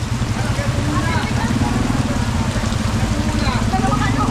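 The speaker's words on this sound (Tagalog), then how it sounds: "Konting ulan lang." Light rain patters steadily and loudly on a surface outdoors near Olongapo, with a continuous low rumble underneath.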